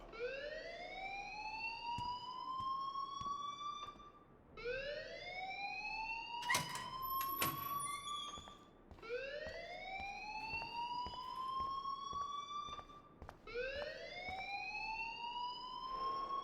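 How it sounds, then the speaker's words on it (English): A fire alarm wails in the Life is Strange video game, rising sweeps that repeat about every four seconds, steady and fairly loud, with a few sharp clicks and bangs partway through. "please turn off that alarm since that's your job"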